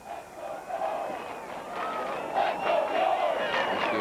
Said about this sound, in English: You'll hear the crowd following Leslie York.